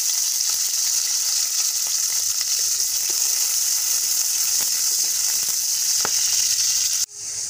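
Garlic and green chilies fry in hot oil, producing a loud, continuous close-up sizzle with faint stirring taps. The sizzle drops sharply just before the end.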